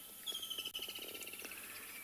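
Birds call at sunrise on a safari at Tswalu in South Africa, with faint, distant chirps and short tweets scattered over a quiet outdoor background.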